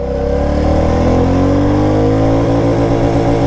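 A 2023 Royal Enfield Classic 350 motorcycle, BS6 E20 model, pulls away in first gear. Its loud, close single-cylinder engine note climbs steadily in pitch, continuous and unbroken, with no voices over it.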